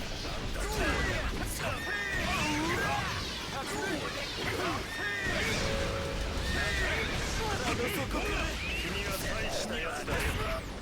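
A horse whinnies amid busy fighting-game sounds from JoJo's Bizarre Adventure All-Star Battle, with crashes, whooshes and thwacks layered over a loud, dense mix.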